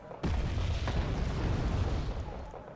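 A sudden deep boom kicks off a sustained rumbling roar of explosive blasts in Wargame: Red Dragon, loud and low, fading slightly toward the end.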